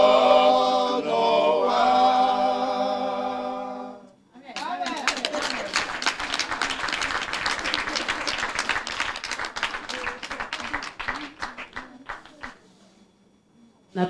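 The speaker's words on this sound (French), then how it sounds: "On applaudit encore plus fort, plus fort, plus fort." A church congregation at a group celebration claps along after singing fades, with brisk, rhythmic rapid clapping and crowd voices mixed in, building for several seconds before tapering off.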